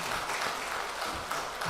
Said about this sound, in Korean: 하나님 큰 영광의 박수 드리겠습니다.